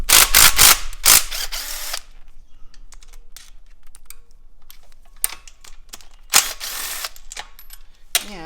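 A ratchet clicks rapidly in bursts as bolts come off a Kawasaki KLX110 motorcycle, with close, loud metallic ratcheting at the start and again later, separated by quieter handling.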